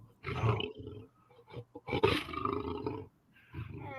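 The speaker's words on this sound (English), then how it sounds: "Let's get the lion." A deep lion roar sound effect rumbles out in several swelling bursts with short gaps between them, close and fairly loud, with no talking.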